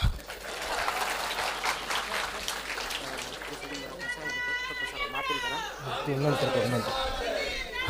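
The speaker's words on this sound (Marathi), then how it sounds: "वाजवा टाळ्या." Audience applause at a Marathi public speech: a burst of rapid crowd clapping with lively chatter, which then gives way to a voice speaking over the crowd noise.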